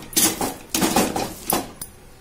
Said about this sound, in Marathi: आता हे आपण पुन्हा मिक्स करून घेणार चांगलं